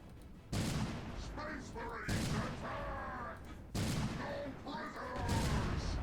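Tank cannon shots in the World of Tanks video game, with T34 and 59-16 tanks, fire as three heavy booming blasts spaced about a second and a half apart over constant rumbling battle noise, while a voice talks throughout.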